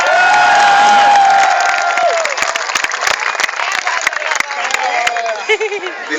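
Loud, dense applause and cheering from a large audience at a college kavi sammelan poetry recital, peaking at the start and thinning into scattered clapping and crowd noise.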